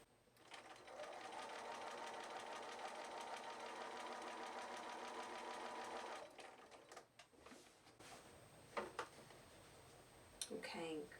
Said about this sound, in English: I'm sewing like a 1/16 of an inch from the edge, or an 1/8 of an inch, just very close, like a nice tight top stitch